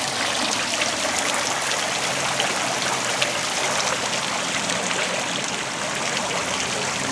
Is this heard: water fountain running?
yes